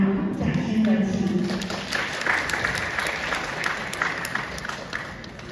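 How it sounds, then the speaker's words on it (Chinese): An audience at a Deyunshe crosstalk evening show in Harbin applauds steadily for several seconds, a dense wash of clapping. A voice is heard briefly over the start. "谢谢朋友们的掌声鼓励"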